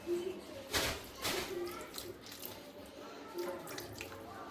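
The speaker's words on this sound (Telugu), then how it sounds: "let's pour some water" Water is poured into a pan of egg Maggi noodles, a quiet splashing trickle in a few short bursts with faint drips between them.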